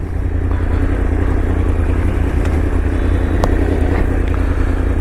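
A 1000cc Yamaha R1 motorcycle being ridden through a city, its engine droning steadily and loudly with road clatter and wind, no gear changes or pauses.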